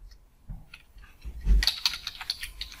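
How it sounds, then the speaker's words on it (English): Keys tapped on a computer keyboard to enter a file name, starting with a few scattered presses and then a quick, close run of crisp clicks. "I'll go over here to my keyboard and I'll name it"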